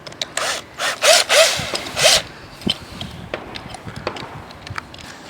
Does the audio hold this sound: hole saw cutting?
yes